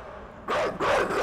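Dogs in the video game Inside give two loud, close barks in quick succession after a quiet moment.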